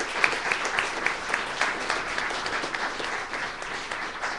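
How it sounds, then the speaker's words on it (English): An audience at a public radio panel discussion on public land applauds the panelists, a steady, moderately loud wash of clapping with no talk over it. "a big round of applause for our panelists"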